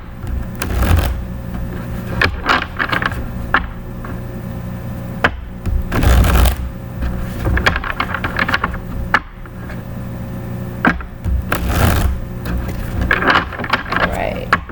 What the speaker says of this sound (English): Let me just shuffle really good here.